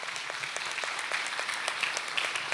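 Church congregation applauding loudly, a steady wash of many hands clapping throughout at moderate, even volume.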